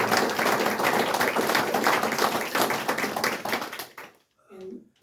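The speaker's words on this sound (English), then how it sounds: "I'd love to give them a round of applause" An audience applauds guests at a talk about the history of Marshall's Fudge: a dense, loud burst of many hands clapping for about four seconds, then it stops abruptly and a voice speaks briefly.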